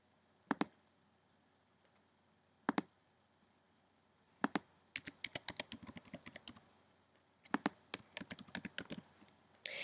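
Bursts of keystrokes on a computer keyboard: a few isolated clicks at first, then quicker clusters of typing as bank routing details are entered, close and clear with no speech.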